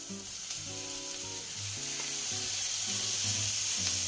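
Mussels fry in a pan with cream for Odessa-style plov, giving a steady hiss that grows slightly louder, with a background musical tone and no talk.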